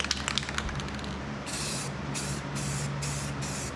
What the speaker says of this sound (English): these have the bigger spray nozzles on too